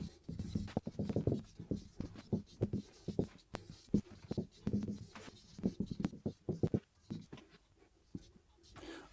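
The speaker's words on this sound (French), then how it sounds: "Je vais écrire 5 phrases." Pen or pencil scratches across paper as a teacher handwrites five French sentences, irregular bursts of strokes and pauses, close and fairly quiet, with no speech over it.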